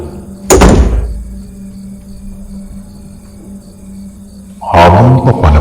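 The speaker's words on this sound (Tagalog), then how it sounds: "Lumapit si Lara para isara ang pinto" A door closes in an animated Philippine horror story, a sharp loud thud followed by a quiet low hum and faint insect chirps, then a second heavy bang near the end.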